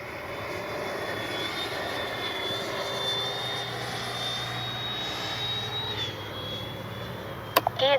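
Freewing F-22 90mm AS3X+ electric ducted-fan RC jet flying overhead: a steady high-pitched whine with a slowly rising and falling tone, moderately distant, and a brief handling knock at the end.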